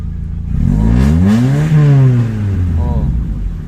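A Nissan engine converted from EFI to a carburetor revs hard, rising to a loud, close roar with climbing harmonic whine, holding high and then easing back with some clatter.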